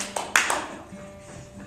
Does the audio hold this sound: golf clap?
yes